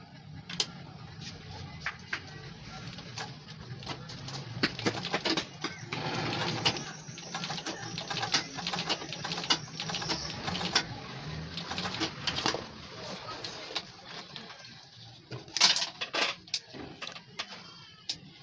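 A sewing machine top stitching the folded edge of a small DIY mini handbag, a steady mechanical whirr with dense clicking transients that runs close and continuous through the whole stretch, with no talk.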